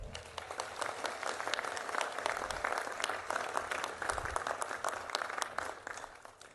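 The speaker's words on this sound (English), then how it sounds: "Can we give them a big round of applause?" A crowd applauding steadily, dense clapping that holds at an even level for several seconds.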